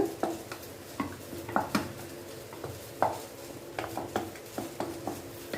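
Sago curd rice being stirred in a bowl, with a spoon knocking and scraping at irregular intervals in soft, close, quiet strokes, no talking.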